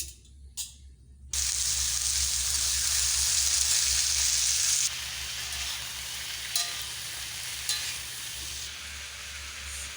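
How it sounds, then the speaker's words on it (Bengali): Potato and pointed gourd drop into hot oil in a wok and set off a loud, sudden burst of sizzling that stays strong and close, easing a little later, with a few faint clinks as the pieces are moved. "তেলটা আমার গরম হয়ে গেছে এবার আলু পটলটা তুলে দেবো"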